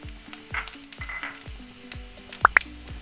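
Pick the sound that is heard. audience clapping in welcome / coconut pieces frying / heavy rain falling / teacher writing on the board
coconut pieces frying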